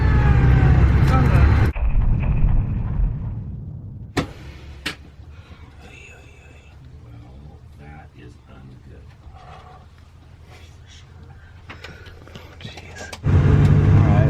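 A Greyhound coach bus rumbles loudly as it pulls away and drives, its engine filling the start and end while a quieter stretch in between carries voices talking.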